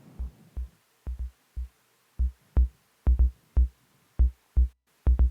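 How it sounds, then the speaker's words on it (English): Bass synth voice sequenced by a Squarp Hermod, short punchy low notes in a syncopated step pattern, loud and dry with silence between hits. "So let's just turn the bass on."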